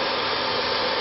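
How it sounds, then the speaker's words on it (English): Electric motor driven by a variable frequency drive, spinning up to full speed: a steady, loud whirring hum with broadband whine throughout, no speech. "The motor is running fast."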